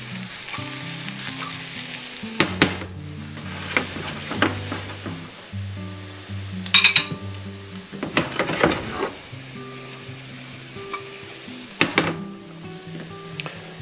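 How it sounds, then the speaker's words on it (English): Western omelet vegetables sizzle steadily in a hot pan while a spatula scrapes and pushes them around, with occasional clatters and knocks, close and continuous, over faint background music. "I like to use a spatula to move this stuff around. Things are cooking nicely."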